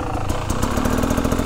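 A motorcycle engine runs steadily and close by during a hill-climb outing with modified bikes, a continuous buzzing drone with a rapid pulsing beat throughout.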